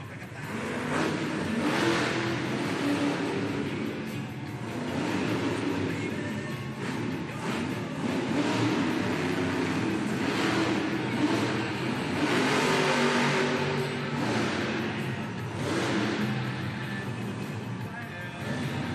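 Gravedigger monster truck, driven by Kristen Anderson, revving its engine in an arena at a Monster Jam event in Hampton, Virginia; a loud, sustained engine roar with surging revs over steady crowd noise throughout.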